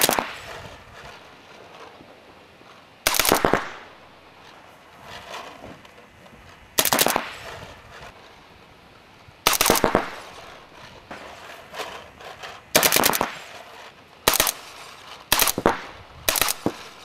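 Paintball guns fire in sharp bursts of rapid shots on an outdoor field, several separate volleys spaced a few seconds apart over quiet background.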